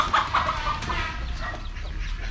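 Chicken clucking close by on a farm in Laos, a run of short irregular clucks and squawks over light background noise, with no talk.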